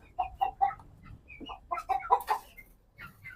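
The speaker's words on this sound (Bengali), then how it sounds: "আর এগুলো মুরগির নাম হচ্ছে পাকিস্তানি মুরগি" Pakistani Fayoumi chickens, hens with a rooster nearby, cluck in short bursts of a few notes each, close and fairly quiet with pauses between calls.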